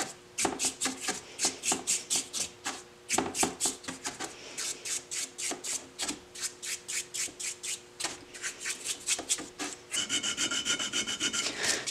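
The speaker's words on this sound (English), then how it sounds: "So I'm just cleaning up this gearbox cover." Scrubbing and rasping on the metal gearbox cover of a scrap yard saw drive, a steady back-and-forth rhythm of close, loud strokes, faster and brighter near the end, with no talk.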